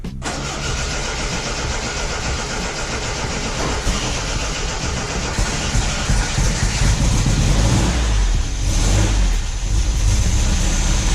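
A 1974 MG MGB engine with a flooded HIF4 carburetor from a failed float cranks and catches, then runs rough and loud, revving unevenly as it struggles to settle into an idle.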